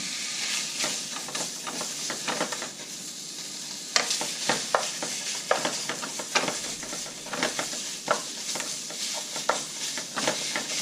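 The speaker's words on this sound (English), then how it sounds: "Try to break it up and cook until all brown." Ground lamb sizzles and hisses in a hot pan while a utensil stirs and breaks it up, steady frying noise punctuated by irregular scraping strokes, close and without talk.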